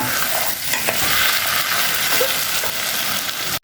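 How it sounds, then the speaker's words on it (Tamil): Chicken pieces sauté in a hot pan with a constant close sizzle and ongoing scraping stirs, ending in an abrupt cut. "சிக்கன் போட்டு 2 நிமிஷம் வதக்கிட்டோம்"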